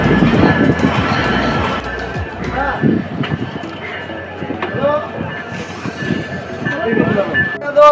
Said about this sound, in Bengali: অনেক বড় একটা স্টেশন আর অনেক বেশি পাবলিক নামছে এখানে